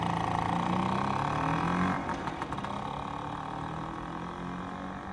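A scooter engine in The Flower Collectors video game, loud and steady at first, then dropping to a rougher idle with sputtering pops and clatter from a tampered exhaust, heard close and without speech.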